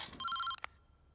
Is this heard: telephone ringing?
yes